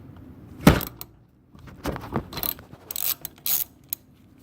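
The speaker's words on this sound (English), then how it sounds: "Now I use a 5/8 ratchet as opposed to the little wrench it comes with." A 5/8 ratchet tightening a brass valve fitting into an aluminum body, giving a loud click followed by a series of quick ratcheting clicks and small metallic taps, close up and otherwise quiet.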